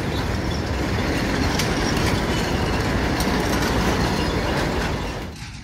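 A sugarcane railway train rumbles loudly past a level crossing, its wheels clattering steadily and close throughout before the noise starts to fade at the very end.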